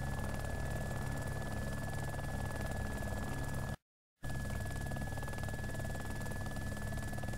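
Chinook helicopter in DayZ Epoch, a constant loud rotor drone and engine whine humming evenly throughout, cut by one brief dropout of total silence midway, with no talk.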